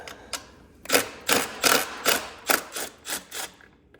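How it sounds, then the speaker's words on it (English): A ratchet clicks in quick repeated strokes while removing bolts from the water pump of a 2009 Yamaha Raptor 700R, about ten close, crisp ratcheting bursts in a steady rhythm with no talk. "I'm gonna take the take the bolts out of it real quick."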